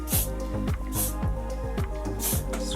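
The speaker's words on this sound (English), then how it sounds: "give it a little bit of a spray" Hairspray hisses onto styled hair in a few short bursts, each a brief airy spritz, heard over steady background music.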